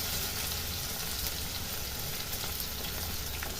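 Fish fries in a pan as onions go in, giving a steady, loud sizzle and crackle that runs unbroken throughout, close by, with no talking.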